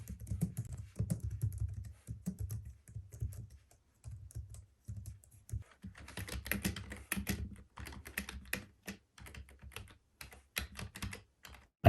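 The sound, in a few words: typing on a quiet computer keyboard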